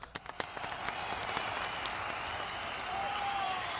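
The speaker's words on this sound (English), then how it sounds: "I think Gary deserves more than golf claps" Applause from a live stream audience for a guitar effects pedal segment, a steady wash of many hands clapping close and fairly loud, starting with a few sharp claps and then holding an even roar to the end.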